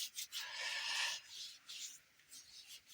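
Healing oil rubbed onto the hands, soft close dry swishing strokes in short uneven bursts, quiet and with no talking.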